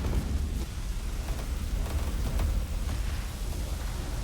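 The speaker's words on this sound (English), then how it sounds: "my battleships are engaging, we're firing with beams" Battleships firing beam weapons in the space strategy game Sins of a Solar Empire II, a dense, continuous rumbling roar with crackling bursts throughout, steady and loud with no pauses.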